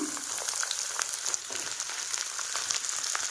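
Chopped garlic hits hot oil and sizzles steadily, a dense crackling hiss that holds for a few seconds while mixed pickle is being cooked.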